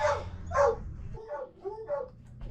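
A stray dog barks close by, two sharp loud barks followed by a series of softer yips and whimpering calls over a low background rumble.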